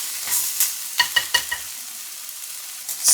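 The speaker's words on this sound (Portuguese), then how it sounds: "Adicionar toda a cebolinha, o alho e o gengibre. Uma leve misturada." Scallions, garlic and ginger stirred in a hot pan, a few close scraping strokes of the utensil over a steady hiss of frying, with no talk.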